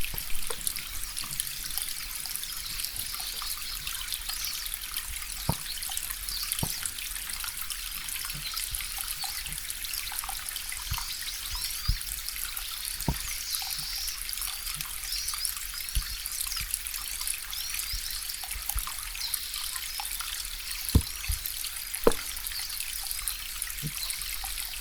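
Field recording of water trickling and dribbling steadily, a continuous bright splashing wash with scattered louder drips and plinks, close and alone without any speech.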